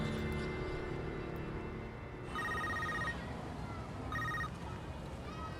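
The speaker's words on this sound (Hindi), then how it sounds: "गनी, हाँ खान को फोन लगाओ" A telephone rings twice in short electronic bursts over a low background hum, moderately quiet.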